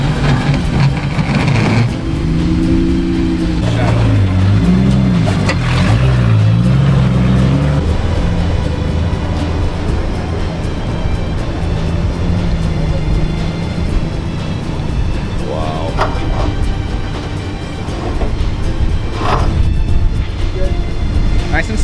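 An off-road vehicle crawls slowly along the Golden Spike trail in Moab, Utah, its engine a steady loud rumble with occasional revs, while people talk over it.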